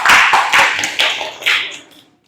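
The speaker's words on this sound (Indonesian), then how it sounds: "Beri tepuk tangan buat yang sudah baca" Classroom applause for students who read aloud: several short, bright bursts of clapping, close and fairly loud, fading out at the end with no talking.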